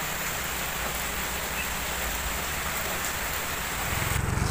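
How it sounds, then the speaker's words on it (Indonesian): Steady rain falls in an even, hissing wash of drops that continues without a break, fairly soft, with a faint low rumble rising near the end. "Cuaca hujan"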